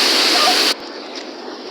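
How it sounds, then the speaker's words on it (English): A waterfall gives a loud, dense rushing hiss that cuts off abruptly partway through, leaving a much quieter steady wash of water behind. "It's a beautiful waterfall."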